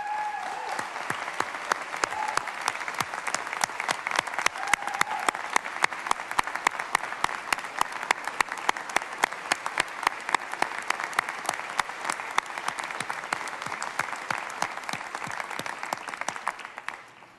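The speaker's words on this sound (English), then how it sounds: "Members, let's give them a round of applause." Members of the Texas House of Representatives applaud in the chamber, a long burst of dense clapping that stays steady before tapering off at the end.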